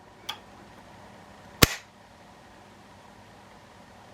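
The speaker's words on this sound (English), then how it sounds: "you should hear a click" An SKS rifle's action gives one sharp, close metallic click as the trigger is released, preceded by a fainter tick, with quiet room tone otherwise.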